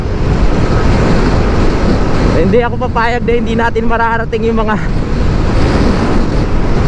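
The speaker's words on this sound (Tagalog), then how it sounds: "Grabe, ang lakas! Lakas ng hangin!" Strong wind buffets the microphone on the Patapat Viaduct in Ilocos Norte, a constant loud roar while a person speaks over it partway through.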